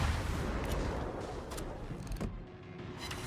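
Warship rear gun turrets firing in a naval battle game, heard as deep rumbling booms with a few sharper cracks over a continuous low roar, fairly loud and without talk.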